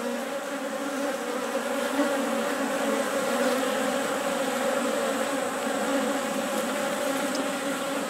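Honey bees buzz at an opened hive as their new queen is introduced, a dense, loud, continuous drone of many insects close by, steady throughout.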